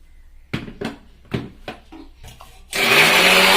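Electric mixer grinder with roasted sesame seeds: several short, sharp pulse bursts, then a sustained loud whirring grind at the end, close by and without speech.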